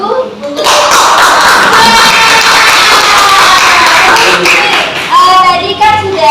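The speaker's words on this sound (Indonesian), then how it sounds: "Tepuk tangan dulu untuk" Applause in a classroom, with a group of students clapping steadily and fairly close for several seconds. Voices are mixed in with the clapping.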